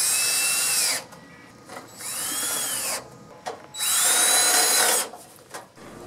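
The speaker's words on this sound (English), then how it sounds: "Put the screws back in." A power drill drives screws into the top of an outdoor air conditioner condenser unit, three close whirring bursts with rising and falling pitch separated by short pauses and light handling noises.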